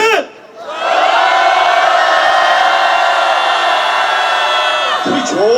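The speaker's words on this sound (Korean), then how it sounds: "힘차게 국회를 향해서 5초간 함성 발사하도록 하겠습니다" A rally crowd at a disability anti-discrimination law protest raises a loud, sustained collective shout toward the National Assembly, a massed roar of many voices held steadily for about five seconds after a brief lull.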